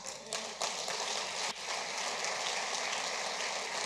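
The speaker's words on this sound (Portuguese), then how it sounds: "eu diria até que a irmã Janete merece uma salva de palmas" A church congregation at a service in João Pessoa applauds with a steady, dense wash of clapping that continues throughout, with no break.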